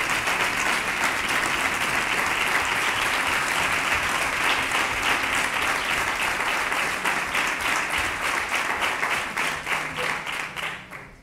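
Sustained audience applause at a Three Kings proclamation event in Nerva, a dense wash of many hands clapping steadily and loudly throughout, thinning slightly near the end.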